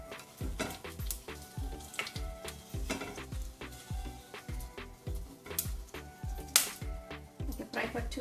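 Red pepper frying in oil for upma gives a soft sizzle under a regular, rhythmic scrape-and-tap of stirring against the pan, repeating roughly twice a second throughout.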